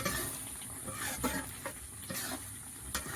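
Grated raw mango for a sweet pickle made without oil, stirred and cooked down in a pan: faint, steady sizzling with soft scraping and stirring scrapes recurring throughout.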